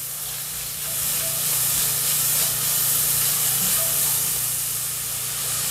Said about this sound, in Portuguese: E vamos refogar os dois aqui com alho e a cebola.